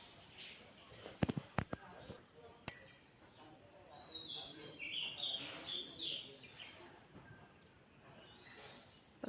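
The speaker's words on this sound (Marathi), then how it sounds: "पक्ष्यांचा किलबिलाट चालू आहे" Birds chirp in a quiet village morning in Ratnagiri, with a few clicks early on, then scattered faint high chirps and tweets in the distance.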